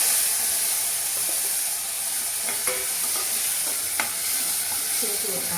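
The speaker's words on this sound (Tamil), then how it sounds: "வெங்காயம், கருவேப்பிலை இதெல்லாம் நல்லா வணங்கிடுச்சு." Onions and curry leaves sautéing in a pan, a continuous hissing sizzle with occasional stirring clinks and scrapes, heard up close with no talking.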